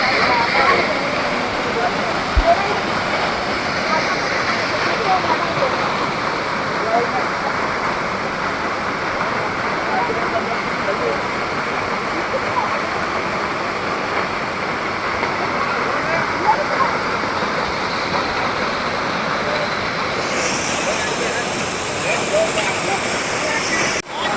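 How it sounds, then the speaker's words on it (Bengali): Seven Sisters Waterfall in North Sikkim pours steadily, a broad continuous roar of falling water heard up close, constant in level throughout. "সেভেন সিস্টার ওয়াটারফল দেখুন, বিউটি, ন্যাচারাল বিউটি।"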